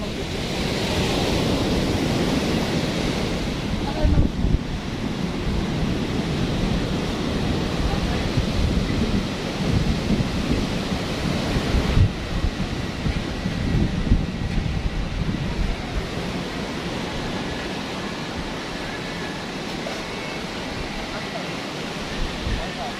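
Big ocean waves breaking at a beach, a continuous loud wash of surf and rushing water close by, with wind buffeting the microphone and surges swelling and fading across the whole stretch.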